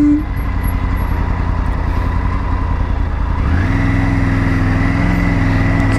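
Loud road traffic on a Himalayan highway between Mumbai and Ladakh, with a steady rumble of heavy truck engines whose pitch climbs partway through, close and continuous.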